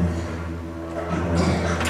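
A didgeridoo plays a short droning phrase with rhythmic bursts imitating a hopping kangaroo, close and loud, the drone steady before choppy accented pulses near the end.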